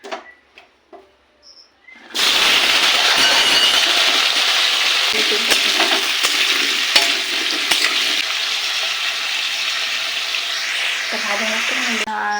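Potatoes fry in hot oil in a pan while chicken curry is being cooked. A loud, dense sizzle bursts in after a few faint knocks and holds steady, with occasional scrapes of stirring.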